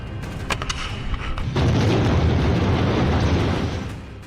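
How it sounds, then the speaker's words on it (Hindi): An Israeli tank hit by Hamas fire in Gaza explodes: a few sharp pops give way to a loud, sustained booming roar that rumbles on for a couple of seconds before slowly fading. "एक ही पल में इजराइल का पूरा टैंक जलकर राख हो जाता है"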